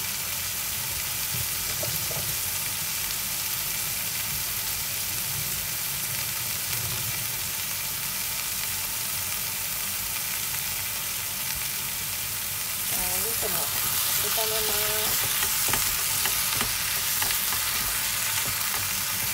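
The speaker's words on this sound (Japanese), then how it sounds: "一緒に炒めていきます" Ingredients sizzle and crackle steadily in a hot pan as they are stir-fried, a constant frying hiss with occasional scraping and stirring, and a brief soft voice partway through.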